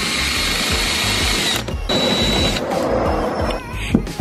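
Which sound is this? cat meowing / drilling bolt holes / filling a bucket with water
drilling bolt holes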